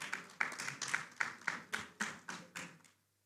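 Sparse audience applause at a climate justice panel session, about ten distinct claps in an even rhythm that fade out, thin and quiet.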